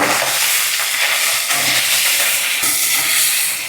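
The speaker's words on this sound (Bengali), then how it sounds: "যতক্ষণে মাছগুলো ভাজা হচ্ছে" Small taki fish fry in hot oil, giving a loud, dense, continuous hissing sizzle heard up close without any talk.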